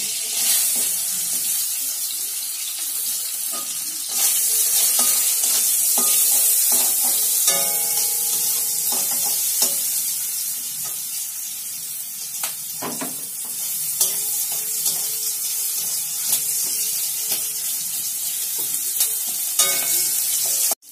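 Chopped onion frying in oil for a mushroom curry, a loud continuous sizzle and hiss near at hand with scraping stir strokes and clinks throughout, no one talking.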